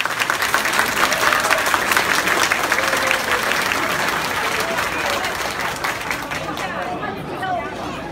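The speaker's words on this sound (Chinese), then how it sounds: "借用大家的双手，掌声欢迎我们的彭彭元主任" A dense round of applause from a banquet crowd welcoming a retiring teacher and director at a thank-you dinner, many hands clapping loudly and steadily with chatter mixed in, then gradually thinning toward the end.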